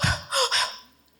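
A deep, energetic breathing demonstration: a sharp, forceful gasp-like inhalation in two quick surges, close and fairly loud, then trailing off into quiet.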